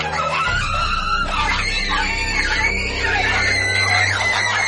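Eerie, strange screams echo from a haunted hospital room at night, loud and continuous, with layered wailing cries over a low droning rumble.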